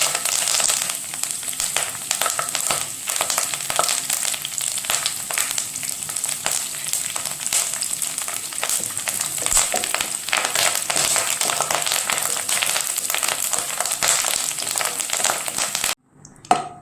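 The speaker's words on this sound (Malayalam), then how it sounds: "അതിനകത്ത് നല്ലെണ്ണ ഒഴിച്ചിട്ട് നല്ലെണ്ണ നന്നായി ചൂടായിട്ട് വേണം കറിവേപ്പില കുറേശ്ശെ നമുക്ക് വാർത്തെടുക്കാം" Curry leaves fry in hot sesame oil, a steady, close, dense sizzle and crackle that runs unbroken for over fifteen seconds before cutting off abruptly, with no voices.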